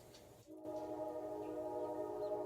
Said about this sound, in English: Just want to let that train play.